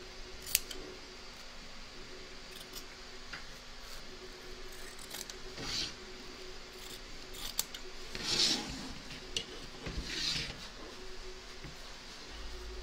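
Scissors trimming applique fabric on the front of a hooped embroidery piece, with repeated soft close snips and rustling fabric in an otherwise quiet room, no talking.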